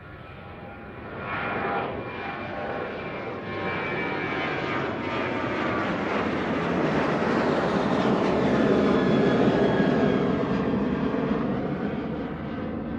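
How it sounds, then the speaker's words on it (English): A Qantas airliner, flight QF 170 to Melbourne, departing Christchurch Airport: a loud, steady jet engine roar that swells over about thirteen seconds as the aircraft accelerates away, with no talking. "Okay, so Melbourne QF 170 just departing."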